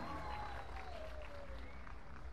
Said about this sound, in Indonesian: beri tepuk tangan sekali lagi untuk penampilan nomor 2 undi 26.